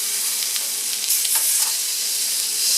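Fatty side of a cut of meat frying face-down in a hot pan, a steady loud sizzle with crackling pops throughout, no voices.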